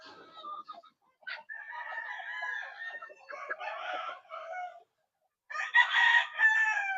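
Golden-type chickens in a breeding yard crow and cluck close by in several bursts with short silent gaps, with no talking.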